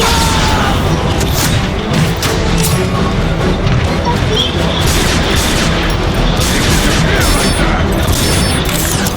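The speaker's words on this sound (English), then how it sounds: "Rocket incoming!" Rocket explosion during combat in Transformers: Fall of Cybertron, buried in constant loud booms, gunfire and crashing debris that continue without a break throughout.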